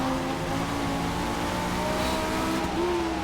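Race car engine in a racing video game, a steady sustained drone with shifting engine tones throughout, with no breaks and no talk.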